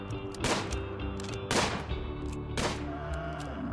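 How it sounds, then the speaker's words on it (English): Three sharp gunshot bursts from RimWorld, spaced about a second apart, ring out moderately loud over a steady synth music drone with no talk. "I hear gunshots."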